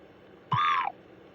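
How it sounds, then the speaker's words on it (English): A short vocal-like vox sample from an ambient beat plays alone, a single tonal, slightly croaking burst about half a second long with a falling tail, over a faint background hiss. "this isn't a snare, it's more like a vox"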